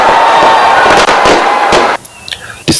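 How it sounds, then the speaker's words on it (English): New Year fireworks bursting over Auckland, New Zealand: loud, dense crackling and booming barrages that fill the air continuously, then drop away briefly before another sharp burst, with a faint crowd murmur beneath. "The city's sky is aglow with brilliant fireworks as the spirit of 2025 begins to sparkle."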